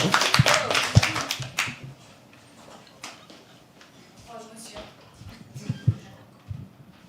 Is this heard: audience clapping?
yes